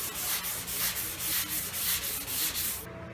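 A 180-grit block rubs back and forth across a car hood during bodywork, rhythmic gritty sanding strokes about three per second, close and clear, stopping abruptly at the end.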